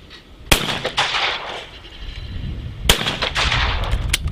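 Two sharp shotgun blasts ring out about two seconds apart at a sporting clays championship, each a loud crack followed by a short rolling echo, with faint outdoor background noise in between.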